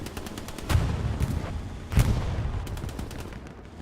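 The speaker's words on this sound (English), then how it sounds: "Keel finishes it off with a side shot. And the Panzer IV goes ba-ba-ba-dooey" Tank cannon fire destroying a Panzer IV in the World War II shooter Hell Let Loose, two heavy booming shots about a second apart over a steady rumble of distant battle, with no voices.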